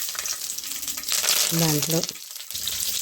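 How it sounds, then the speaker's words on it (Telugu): Mustard seeds, green chillies, curry leaves, urad dal and chana dal sizzle and crackle in hot oil in a pan for Telugu-style upma, a steady bright frying hiss close by, with a brief spoken word over it. "ఆవాలు, పచ్చిమిర్చి, కరివేపాకు, మినప్పప్పు, శనగపప్పు ఇవన్నీ వేగుతూ ఉండగా"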